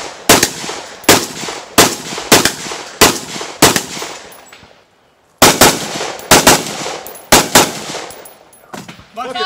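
Pistol shots at a 3-gun match ring out loud and close, a steady series of evenly spaced cracks with echoing tails, pausing for about a second midway before the volley resumes.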